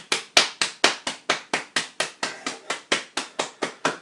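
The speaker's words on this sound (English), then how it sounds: "Give them a round of applause." During a bodywork and loving-kindness meditation session, a single person claps close by in a steady, even rhythm of roughly four sharp hand claps per second, continuing without talk.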